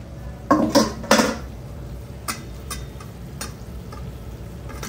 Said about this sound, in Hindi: कढ़ाई तैयार हो रही जी हमारी यहाँ पर